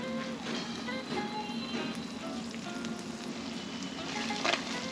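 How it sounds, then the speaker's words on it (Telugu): Fish fries in oil until golden brown for a Telangana-style fish stew, a faint, continuous crackling sizzle with small pops scattered throughout. "ఇది బాగా ఫ్రై అవ్వాలి, బ్రౌన్ కలర్ గోల్డెన్ బ్రౌన్ వచ్చే వరకు ఫ్రై చేయాలి."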